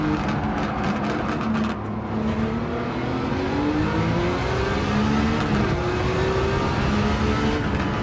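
Race car engine in Gran Turismo 7 revving high through the gears, pitch climbing and dropping with shifts as other cars are passed, loud and continuous with no talk.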